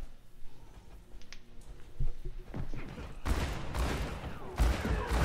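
Rapid gunfire bursts in the Overwatch 2 video game, a couple of loud dense volleys of shots in the second half after quieter game noise, with no talking.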